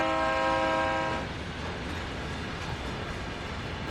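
Train in a train video game running with three engines, a loud sustained horn chord for the first second, then a steady rumbling roll of the moving train continuing alone.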